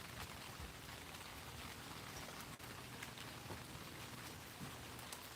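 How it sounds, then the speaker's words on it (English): Heavy rain falls outside in a steady, dense hiss that stays even throughout, soft and diffuse at a moderate distance, with no voices. "it's raining good out now"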